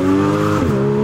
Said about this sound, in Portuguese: Mano, o barulho dela, rapaziada, sério, é muito bonito. Porque é um motor V6